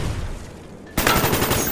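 A burst of rapid gunfire rings out in a first-person shooter game, off to the right. It starts suddenly after a quieter stretch and holds as a loud, dense rattle to the end.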